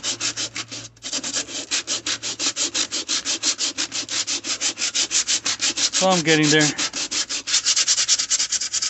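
Steady back-and-forth rasping of sandpaper over body filler on a large hole in a plastic bumper, repaired in place, with fast even strokes close up, briefly interrupted by a short voiced remark.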